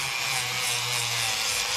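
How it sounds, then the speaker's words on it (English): A power sander works slowly along the edges of a leather wallet, giving a continuous, close, even hiss with a low motor hum underneath and no talk. "put it on a slow speed, not too fast, and slowly sand these edges"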